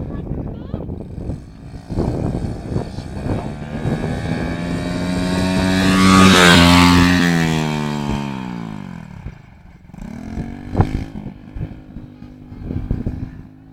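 A quad bike engine revs loudly and close during a ride, with its whine rising to a peak and then falling away, and voices talk over it.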